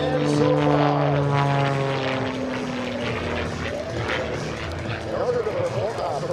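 A propeller aerobatic airplane engine, flown through a torque roll at an airshow, drones steadily with shifting pitch, loud and continuous, while a commentator talks over it.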